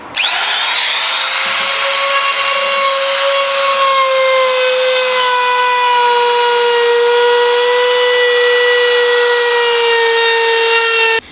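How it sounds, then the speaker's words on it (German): Small one-handed router rounding over the edges of a wooden part for a boat roof section, a loud, steady high-pitched whine held continuously throughout, close by with no talk. "Jetzt werden die Kanten hier mit der kleinen Oberfräse, mit der Einhandoberfräse, noch halbrund gemacht"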